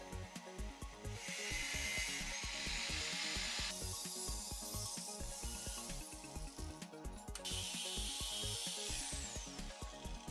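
Rusty steel body panel being cut out on a BMW E30 325i chassis repair, heard as a steady, loud, continuous harsh buzzing cut with a rapid pulsing texture and shifts in pitch, no talking.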